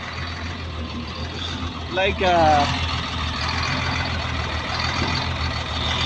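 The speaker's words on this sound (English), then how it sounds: "as we can hear the sound of the engine" A Caterpillar 950H wheel loader's large diesel engine runs steadily with a low, droning rumble, low on power during injector testing, while a person speaks briefly over it near the middle.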